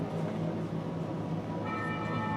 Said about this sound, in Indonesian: Wah, ini lonceng, suara lonceng.